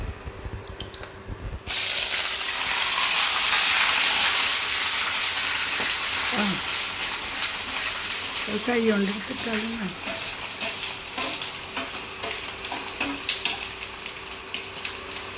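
Shelled fish roe (palinjeen) dropped into hot oil in a pan, giving a steady loud sizzle and frying hiss with a few stirring clinks, while a person speaks briefly over it.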